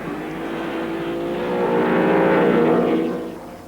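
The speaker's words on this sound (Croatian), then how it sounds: "U 6:30 navečer Hawthorne se približavao ravnini ispred boksova i kanio je preteći jedno od sporijih vozila, Austin Hillija, kojega vozio McLean." A racing car roars past at speed, passing a slower Austin-Healey on a straight in front of the pits, its engine note swelling to a peak and then fading as it goes by.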